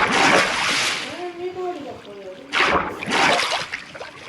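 Water splashing in the video game Minecraft, bursts of rushing splash noise at the start and again later, with a player talking over the middle stretch.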